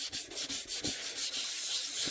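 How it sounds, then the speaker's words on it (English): Bondo filler on a model's surface being wet sanded by hand, a steady scratchy rubbing in quick back-and-forth strokes, close and fairly quiet. "when you wet sand, you have a lot less scuffs, but you still do have scuffs"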